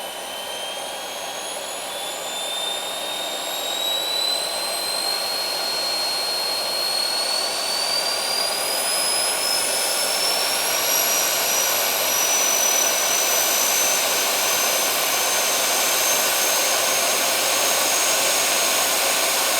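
A hybrid jet engine runs on air alone and spins up under rising voltage. A loud, steady rushing roar builds, with whining tones climbing in pitch, then holds at full power for nearly twenty seconds, close and with no talk.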